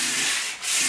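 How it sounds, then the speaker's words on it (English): Sharp edges of a wooden workbench being sanded to deburr them: a brief, close, continuous gritty rasp with a quick dip in the middle of the stroke. "I'm just going to sand them down a bit, or deburr them as some people would call it"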